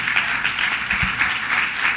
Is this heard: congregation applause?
yes